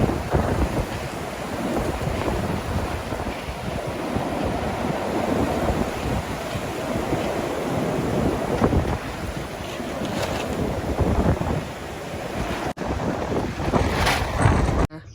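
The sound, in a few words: strong wind outdoors in a garden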